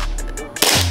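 A green gas pistol from Jail Tactical, a gel blaster, fires once with a sharp pop near the end after a moment of low rustle, close and loud.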